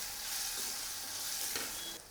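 Masala spices sizzle in a hot frying pan with onion and tomato for an okra and yogurt curry, with a continuous hiss of frying and soft scraping strokes of stirring up close. No one speaks.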